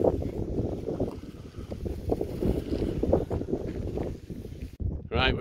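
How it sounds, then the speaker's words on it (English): Wind gusting across an exposed Dartmoor hilltop, loud buffeting rumble against the microphone that ebbs and swells, with a voice speaking through it. "It's a tad windy up here."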